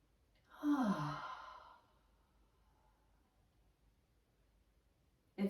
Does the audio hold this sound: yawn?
yes